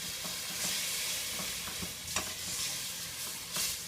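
Thai green curry chicken is stirred in a pan as coconut milk is worked in, giving a continuous bright sizzle with soft repeated scrapes of the spoon, close and with no talking.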